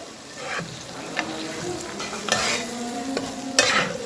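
Loitta dried fish frying and being stirred in a pan, with a steady sizzle and occasional scraping strokes of a spatula against the metal, close up and with no talking.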